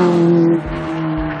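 Opel race cars run along a circuit during a club sport-class race, a loud steady engine drone with a strong pitched tone that dips slightly midway, with no voices.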